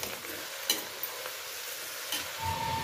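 Grated carrot and beetroot are stirred in a pan for carrot halwa, with a steady soft scraping rustle, a few light clinks of the spoon against the pan, and a faint sizzle underneath, close and quiet.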